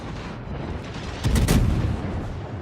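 A naval gun salvo from the cruiser Worcester in a naval combat video game booms out as a deep, heavy burst of several shots over a steady rumbling background, with no talking.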